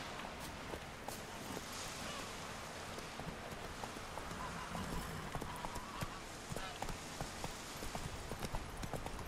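A horse in the video game The Witcher 3: Wild Hunt clip-clops along at a steady trot, the rhythmic hoofbeats carrying on over ambient rain, with a voice speaking faintly now and then.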